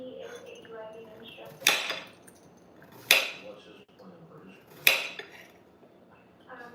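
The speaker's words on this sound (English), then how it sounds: "So I'm just gonna chop up some pieces of zucchini." A knife chops through zucchini on a cutting board in three sharp, evenly spaced strikes, close and crisp over quiet kitchen background.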